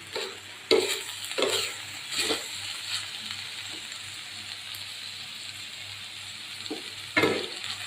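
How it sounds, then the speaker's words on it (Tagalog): Ground meat frying in a pan while being stirred, a low steady sizzle with several sharp spatula scrapes and knocks at irregular intervals, close and moderately quiet. "Ating halo-haloin."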